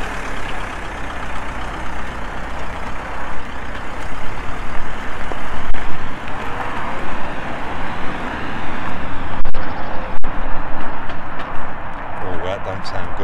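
A faulty 2016 Mercedes Citan van drives off and then slows, its engine and drivetrain droning loudly and unevenly close by, with a voice talking over it.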